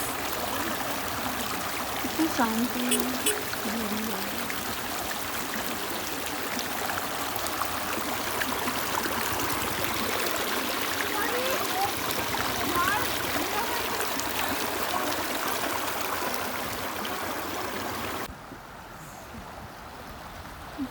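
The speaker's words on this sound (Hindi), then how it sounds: "ये कलकल की आवाज़" A steady babbling stream in Nubra Valley rushes and trickles throughout, with voices talking over the flowing water before it cuts off near the end.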